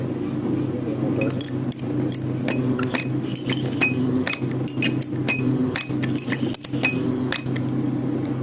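Gold being hammered thin, heard as a run of sharp, bright metallic taps at an uneven but steady pace over a constant low hum in the workshop.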